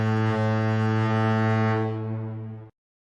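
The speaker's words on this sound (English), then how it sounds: "touchdown foghorn" A single foghorn blast for a touchdown celebration in a 49ers versus Packers playoff game, a loud, steady low tone that holds for almost three seconds and then cuts off abruptly into silence.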